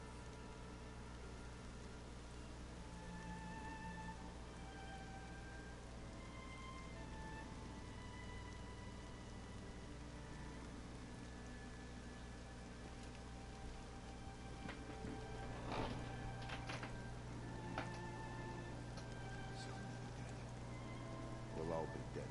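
Steady rain patters on a surface in a continuous hiss in the video game Horizon Zero Dawn, fairly quiet, with low tones and a few faint voices beneath.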